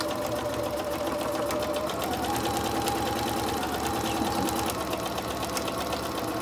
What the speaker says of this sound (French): je vais venir coudre les côtés, un peu le bas, les côtés et un peu le fond du sac